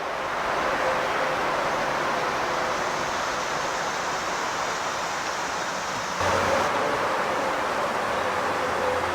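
Swatara Creek, murky and swollen after a night of heavy rain, rushes under an old footbridge in a steady broadband wash of flowing water, continuous and fairly close, with a slight surge near the end.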